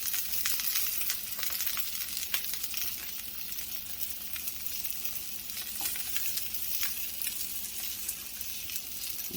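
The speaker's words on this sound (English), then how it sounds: "While I'm cooking this salmon" Salmon frying skin-side down in a hot pan, a dense, even sizzle with scattered crackles and spits throughout, fairly quiet and close, no voices.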